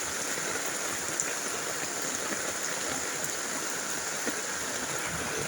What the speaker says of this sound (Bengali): বৃষ্টি দেখো বন্ধুরা, মুষলধারা বৃষ্টি।